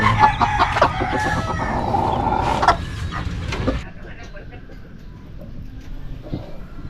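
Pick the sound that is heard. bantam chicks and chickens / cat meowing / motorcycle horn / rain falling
bantam chicks and chickens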